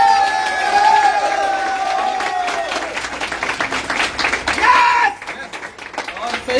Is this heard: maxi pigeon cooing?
no